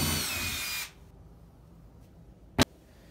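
A power drill bores through the tubing of a Flycraft rod holder, whining loudly up close for just under a second before cutting off, followed by quiet and a sharp knock.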